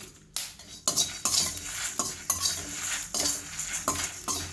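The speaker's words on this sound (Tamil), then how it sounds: "தனியாவில் தனியாவிலேருந்தும் சவுண்டு வருது படப்படன்னு" Coriander seeds and dried red chillies dry-roasting in a hot pan for chicken and mutton masala, with a steady scraping stir and light crackle and pops throughout, close and fairly loud, no talking.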